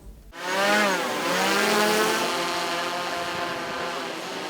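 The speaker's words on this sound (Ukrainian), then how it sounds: "поки керувати дроном важко" A DJI Mavic 3 Pro quadcopter drone starts up and flies close by, its rotors making a loud, steady buzzing whine with a faint shift in pitch, continuous and alone.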